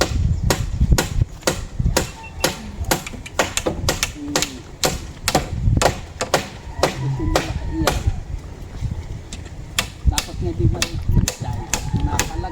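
Rapid metallic hammer blows ring out repeatedly during construction of a hut, over a busy background, with people talking and murmuring beneath the strikes.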